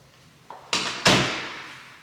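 A house cleaning-supply closet door is worked, giving a soft knock then two loud wooden bangs in quick succession that ring out and decay, close by with no talking.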